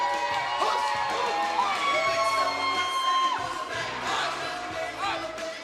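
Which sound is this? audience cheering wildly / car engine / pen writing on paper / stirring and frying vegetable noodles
audience cheering wildly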